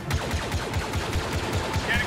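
Weapon fire in the video game Star Wars Battlefront 2 comes as a steady run of fairly faint, evenly spaced shots.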